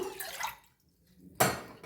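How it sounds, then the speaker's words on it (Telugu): Water is poured into a pan on the stove to start a sugar syrup for an eggless black forest cake, a short splashing pour, a brief pause, then a sharper splash close by. "హాఫ్ కప్ వాటర్ వేసేసుకుందాము."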